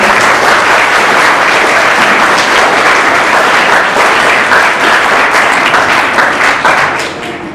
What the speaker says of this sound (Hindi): अपने लिए एक बार बहुत जोरदार ताली हो रहा है।